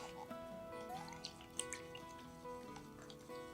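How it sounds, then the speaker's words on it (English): Soft drips and light clinks of water as a brush is swished and tapped in a cup, quiet and close. "I'm going to wash my paintbrush off"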